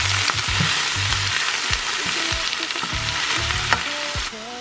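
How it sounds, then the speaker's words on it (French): Spinach wilting in a frying pan with a little coconut oil, a steady close sizzle with repeated scraping and tossing thuds from stirring, nearly five seconds long with nobody speaking. "Donc j'ai fait chauffer ma poêle avec un petit peu d'huile de coco et on va commencer par faire cuire nos épinards."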